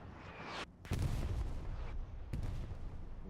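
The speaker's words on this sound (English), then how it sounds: "We've got artillery zoning in on these two stationary tanks with the light moving up" Artillery fire in a World War II tank battle game, heavy booming blasts with low rumble, several impacts overlapping in a dense, continuous barrage.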